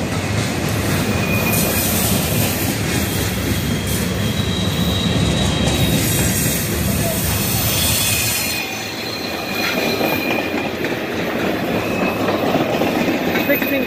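A freight train rumbles past nearby, wheels clattering and squealing on the rails in a loud, continuous roar that briefly eases before resuming.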